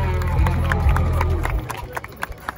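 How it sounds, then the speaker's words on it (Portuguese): A crowd at a rap battle semifinal in São Paulo's east zone claps and stirs, first over a deep bass rumble, then as sharper, scattered claps alongside crowd noise. "palmas pra essa semifinal"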